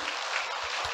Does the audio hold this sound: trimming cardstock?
no